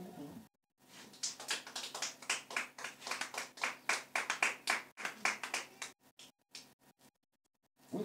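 A church congregation claps in a steady run of sharp, rhythmic hand claps for about five seconds, close and fairly loud, then tapers into a few scattered claps before falling silent.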